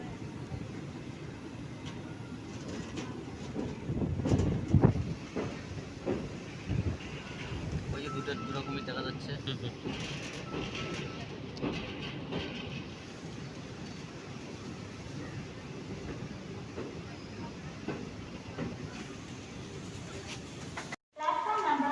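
The Jan Shatabdi Express 12075 rolls into Thrissur station in Kerala with a broad rumbling roar that swells early and then settles into a steady running drone, with people talking now and then.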